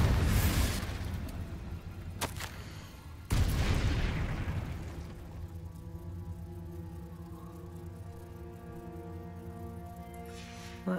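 Two heavy magical spell blasts from the Confringo and Bombarda curses in the Hogwarts Legacy video game, each a loud booming burst, the second followed by a long ringing, fading decay.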